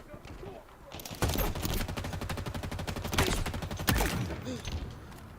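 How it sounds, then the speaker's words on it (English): Assault rifle fire in the Halo Infinite video game rattles out in rapid sustained bursts, with a few louder shots standing out as the clatter of automatic gunfire carries through the short stretch. "Let's try the assault rifle here."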